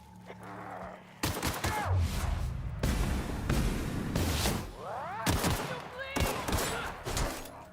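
Gunfire in The Outer Worlds video game, a burst of game shots and impacts breaking out after a quiet start and continuing in loud clustered volleys with brief lulls, mixed with some vocal sounds.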